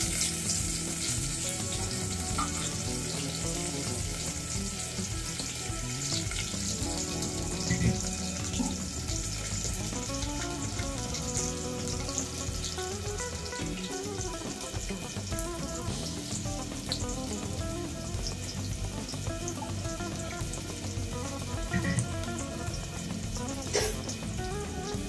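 Garlic sizzles in hot oil in a pot on a gas stove, the tempering for a fish curry: a steady, close, dense crackling hiss with no talking.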